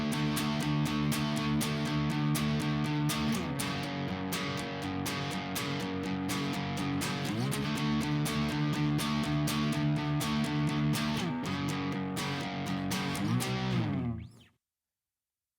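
Distorted electric guitar plays the bridge of a song, a loud, steady strummed rhythm of sustained chords with shifting pitches that rings out and then cuts to silence near the end.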